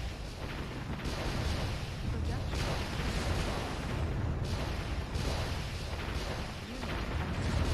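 Missiles streak and burst in a real-time strategy game battle, a dense continuous roar of rumbling explosions and launches that never lets up, loud and close, with a voice talking over the din.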